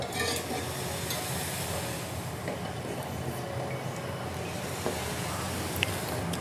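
Milk heats in a pan on the stove and is about to boil over, a continuous soft hissing, bubbling sizzle that holds steady with a few small clicks.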